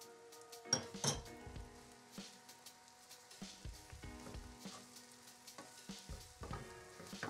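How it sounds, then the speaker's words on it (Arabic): Mushrooms and onions fry in a pan, with a soft sizzle under frequent clinks and scrapes of a utensil stirring against the pan, close and fairly quiet. "ملي كتولي عندنا البصله بحال هكا كنزيدو لي شامبينيون"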